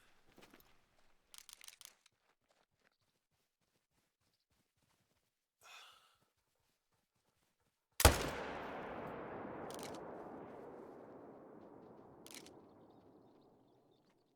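A single loud rifle shot at a European bison in the hunting game Call of the Wild, a sharp crack with a long rolling echo that slowly fades, preceded by faint rustles and breaths.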